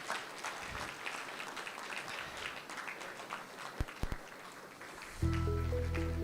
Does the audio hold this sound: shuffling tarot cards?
no